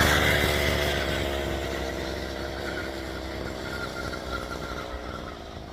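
Mini bike motorcycle engine running, a loud buzzing drone close by that gradually fades a little as it moves away, steady and rough throughout with no voices.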